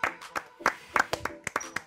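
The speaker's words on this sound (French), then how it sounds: "Les autres, on peut l'applaudir et le féliciter." A small group clapping in a living-room quiz with FC Nantes players, several brief sharp bursts of hand claps close by, irregular and uneven rather than sustained applause.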